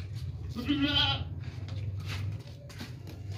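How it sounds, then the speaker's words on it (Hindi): A red-brown pregnant goat gives one loud, wavering bleat up close, followed by quieter rustling over a low steady hum. "ये बकरी देखें भाई, बहुत ज़बरदस्त बकरी है।"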